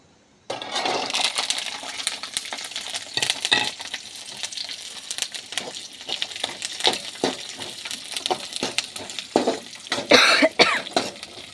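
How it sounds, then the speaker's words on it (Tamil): Garlic added to a hot pan for village-style garlic chutney crackles and sizzles continuously, with scattered pops and stirring clatter, close and loud. "அடுத்ததாக பூண்டு போட்டுக்கலாம்ப்பா"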